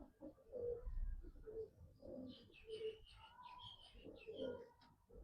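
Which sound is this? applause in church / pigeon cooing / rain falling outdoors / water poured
pigeon cooing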